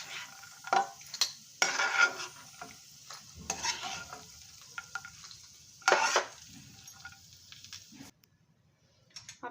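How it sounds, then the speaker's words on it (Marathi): Dry fruits fried in ghee for millet laddu sizzle softly in a pan while a spoon stirs and scrapes in irregular bursts, with clinks of metal against the pan, close and moderately loud, fading to quiet near the end. "आपले ड्रायफ्रूट्स तळून झालेले आहेत।"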